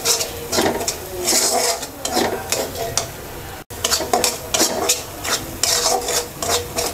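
A spoon scrapes and stirs spice masala with ground coriander as it sizzles in a pan for Bangladeshi olive pickle, rhythmic close scraping strokes over a steady frying hiss, with no voices.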